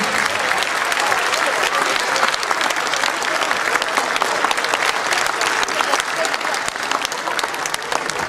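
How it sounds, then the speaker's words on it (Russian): Sustained applause from a concert audience in Moscow, dense and steady clapping throughout at an even loudness. "Ваши аплодисменты."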